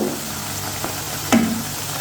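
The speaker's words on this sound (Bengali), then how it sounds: "আমি ডুবা তেলে খুব মচমচে করে ভাজা নেবো" Leftover rice pakoras deep-fry in oil until crisp, a quiet steady sizzle with a single louder bubbling crackle near the end.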